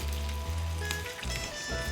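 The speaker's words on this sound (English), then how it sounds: "We've got super, super hot oil in that pan. Okay, and the sausages go sizzle," Sausages sizzle steadily in very hot oil in a pan, a close, continuous crackling hiss with a low hum running underneath throughout.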